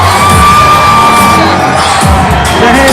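A crowd at a fight event roars and cheers for the fighters, with loud yells and whoops over a dense, continuous din and a few sharp bangs.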